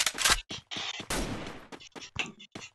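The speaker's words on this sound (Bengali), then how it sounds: "দুনালা দিয়ে আমি চিপে ধরবো, মানে ওয়ান টাইম মারবো।" Double-barrel shotgun blasts in the Free Fire video game sound as a rapid series of loud, punchy game gunfire bursts with short gaps, close and dense, mixed with other game effects.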